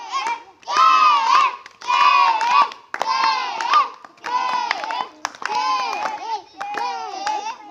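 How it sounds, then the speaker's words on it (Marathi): Children chant and call out together while hands clap in bursts, the voices loud and close with scattered claps mixed in. "ए टाळ्या"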